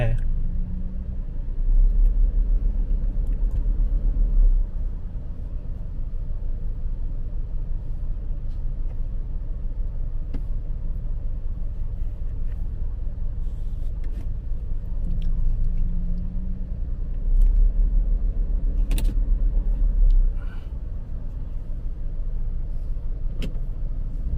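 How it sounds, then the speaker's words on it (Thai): Road traffic in Chum Phae, Khon Kaen, along Highway 12 through the town: a continuous low engine rumble, with heavier vehicle passes swelling early on and again later. "รถเยอะครับชุมแพ"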